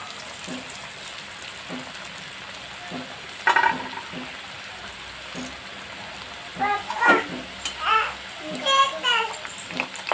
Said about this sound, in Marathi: तेल थोडंसं गरम झाले की त्यात ते मंद आचेवर तळून घ्यायचे